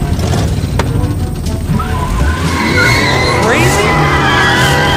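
A toy Lightning McQueen car makes a loud electronic skidding and tire-squeal effect with engine revving, sweeping up in pitch over a steady background din.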